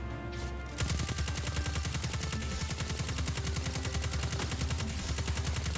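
Auto rifle fire in Destiny 2 starts after a brief pause and runs as a steady, rapid, evenly spaced stream of loud shots that never lets up.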